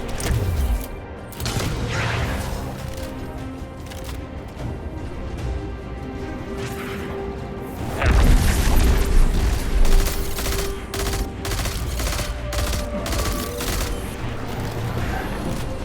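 A linear fusion rifle fires in Destiny 2 amid heavy combat, with loud, sustained bursts and booms that swell midway through, over game effects and voices.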